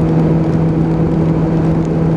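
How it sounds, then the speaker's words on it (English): Suzuki Bandit 600 motorcycle engine, carburetor fault, held at full throttle on a straight: a loud, steady, unbroken drone with a strong low hum, running continuously with no voices. "on this last bit of straight, just bury the throttle one more time"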